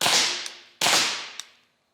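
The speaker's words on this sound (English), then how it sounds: "Shoot our wood there." A pepperball pistol fires at a wooden target outdoors at about half velocity, with two loud, sharp cracks roughly a second apart, each followed by a fainter knock and a fading tail.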